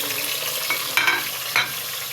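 Tomatoes sizzle in a pan with browned onions, a steady bright frying hiss punctuated by two short bursts of spattering as they hit the hot oil.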